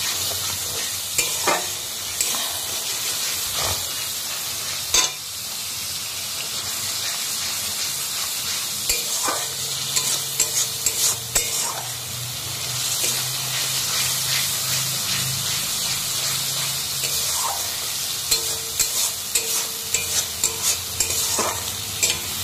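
Spice masala sautés in oil with steady frying sizzle and repeated clinking, scraping stirs of a spatula against the pan, close and continuous with no talking.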